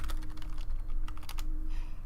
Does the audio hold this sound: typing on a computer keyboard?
yes